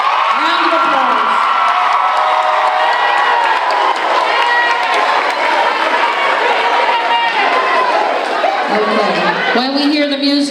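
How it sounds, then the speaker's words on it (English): Loud applause, cheering and whoops from a crowd at an 8th grade promotion ceremony, sustained and dense throughout, with voices shouting over the clapping. "Round of applause."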